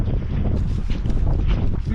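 Gusty wind roars against the microphone on an exposed sheep-country hillside as a blizzard rolls down the valley, a loud rumbling buffet filling the whole moment with no clear speech.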